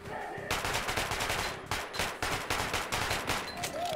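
Rapid bursts of gunfire from a first-person shooter game, Metro Last Light, aimed at a heavily armoured enemy: loud, dense automatic shots in repeated clusters filling nearly the whole stretch with no talk.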